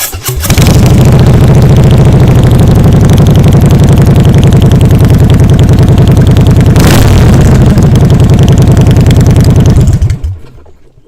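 A 2015 Harley-Davidson Dyna Wide Glide cranks and fires up, then runs loud and close with a deep lumpy V-twin throb and one brief rev midway before cutting off and fading to quiet.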